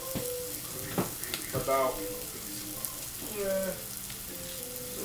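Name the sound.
vegan butter and garlic sizzling in a pan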